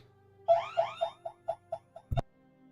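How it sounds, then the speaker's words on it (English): An alarm goes off during an Arknights game session: a short run of rapid chirping electronic beeps that fade in strength, then one sharp burst, heard faintly and alone. "my alarm just went off"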